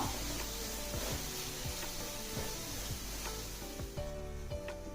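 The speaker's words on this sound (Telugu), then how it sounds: "ఒక్క స్పూను జీరా పౌడర్ రెండు స్పూన్ల అల్లం వెల్లుల్లి పేస్టు ఇవన్నీ వేసి బాగా దోరగా వేయించుకుందాం" Cumin powder and ginger garlic paste fry in a pan for an egg gravy curry, a steady close sizzle with scattered light scraping and stirring knocks and no talk.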